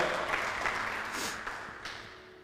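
A church congregation applauds during a Portuguese sermon, with steady mid-level clapping and a few louder accents, slowly thinning out.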